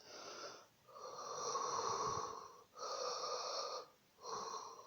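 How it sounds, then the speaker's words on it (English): A person breathes in a heavy, exaggerated way, making three long, wheezy, rasping breaths with short pauses between them, close and alone. "that is like a heightened version of my breathing"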